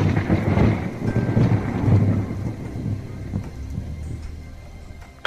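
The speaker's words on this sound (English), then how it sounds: "Thunder crackles and makes loud sounds." Deep rolling thunder rumbles through steady rainfall, loud at first and then fading to a softer patter of rain.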